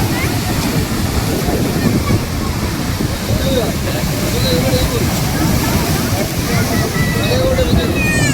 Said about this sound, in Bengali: জল এসছে, পায়ের কাছে জল